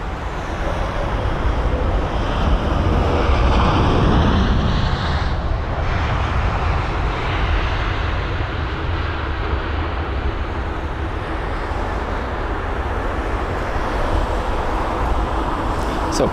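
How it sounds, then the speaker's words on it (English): Virgin Atlantic Boeing 787-9 Dreamliner arriving at Heathrow from San Francisco, a loud, continuous jet roar that swells and then holds steady as the airliner passes, heard from the ground with traffic noise behind. "here is the Virgin Atlantic 7879 Dreamliner from San Francisco"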